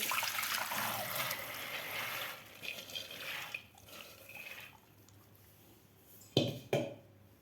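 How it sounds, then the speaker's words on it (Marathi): Water draining from soaked whole masoor lentils in a sieve set over a pot, a continuous close trickle and patter that fades, then a couple of sharp knocks. "आपल्याला संपूर्ण पाणी निथळू द्यायचं आहे या चाळणीमधलं"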